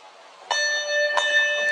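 Two clear strikes of a handbell, rung while wearing gloves, each giving a bright metallic ring with a long sustained tone that carries over into the next.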